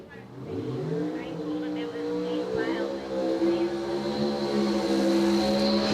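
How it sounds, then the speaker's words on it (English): A drag racing car on a drag strip roars through a burnout, a loud sustained engine drone with sweeping rising and falling pitch, steady and near, with a commentator talking over it. "Look at the big burnout for Shake, Rattle, and Run"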